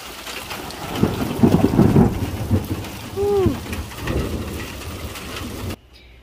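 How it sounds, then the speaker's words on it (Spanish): Rain pours steadily outdoors, joined by low rumbling thunder that swells through the middle and fades, with a brief tonal chirp over it before the sound cuts off near the end. "ya hace una media hora que está lloviendo"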